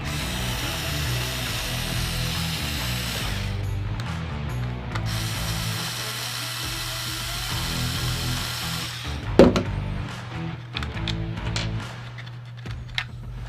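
A power screwdriver whirs in two long bursts as it backs screws out of a Blackhawk Stache IWB holster, followed by a sharp click and lighter handling noises.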